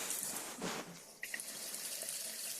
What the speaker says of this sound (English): Now we've got a nice steady stream.